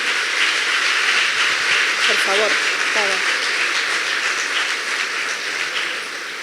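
Lecture audience applauding at a talk on the Middle East conflict, a steady broadband wash of clapping filling the whole stretch and easing slightly toward the end, with a brief voice speaking over it partway through.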